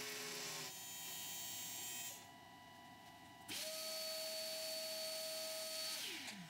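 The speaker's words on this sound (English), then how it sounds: "I began cutting the inlay for my coaster project, starting with the same bit for the outline." An ACMER Ascarva 4S CNC router cuts a wooden coaster inlay, with a steady motor whine that shifts in pitch and level as the cut changes, loud and close, without talk.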